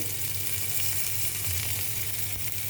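Cardamom goes into a hot pan for pulao, and the oil gives a steady, loud, close sizzle that holds evenly across the whole stretch without any talk.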